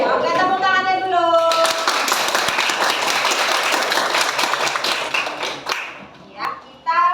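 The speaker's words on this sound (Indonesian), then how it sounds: "Oke, tepuk tangannya dulu." Schoolchildren in a classroom clap their hands together, opening under a voice and then a burst of loud, dense clapping that gradually thins and fades, with kids speaking again at the end.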